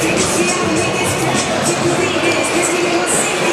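Ice hockey fans in an Akureyri arena cheering and chanting during a Víkingar versus SR title game, a loud, continuous crowd roar filling the space.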